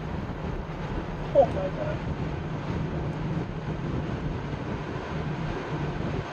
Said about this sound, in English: Stay near the ground, let the airplane accelerate.